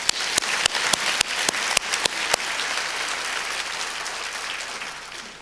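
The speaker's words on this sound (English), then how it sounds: "Let's give him a round of applause" Applause from a banquet audience at a chamber of commerce anniversary dinner: a dense wash of many hands clapping, with a few louder nearby claps standing out early, then thinning and fading gradually.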